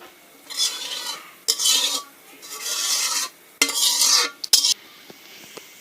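Thick, cooled ripe mango pulp for a mango bar is poured and scraped out of a pot in several short, loud bursts of wet scraping and stirring, separated by brief pauses, with a few sharp utensil clinks near the end.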